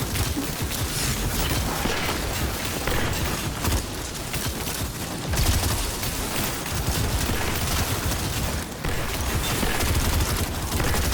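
Weapon fire from enemy fights in the video game Destiny 2 comes as dense, continuous bursts of shots layered with game effects, loud throughout.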